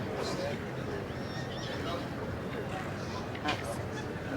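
Welsh Section A pony foals whinnying in a show ring, brief whinnies standing out from a busy outdoor crowd murmur and faint hoof sounds.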